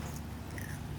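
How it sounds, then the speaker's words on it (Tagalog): A close, quick crunchy bite into a crispy homemade lechon roll, brief and moderately loud with no speech. "Sobrang crunchy, yummy."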